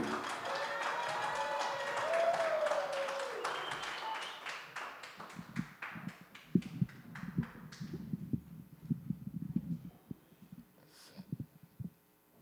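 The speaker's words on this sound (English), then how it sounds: "I want y'all to put your hands together and start clapping for this poet coming up" Hands clap for a poet at a Gainesville, Florida poetry slam as a crowd's scattered, uneven applause picks up after a voice and fades out in the latter half.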